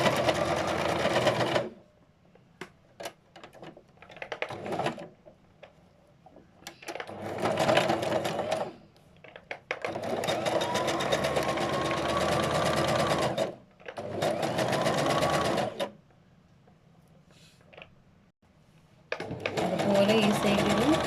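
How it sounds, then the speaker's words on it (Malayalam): A sewing machine stitches fabric in several long, loud runs of rapid whirring and needle clatter, separated by pauses in which a person speaks. "ഇനി മറ്റൊരു ഭാഗത്തും അതേപോലെ ഞങ്ങൾ സ്റ്റിച്ച് ചെയ്യാം."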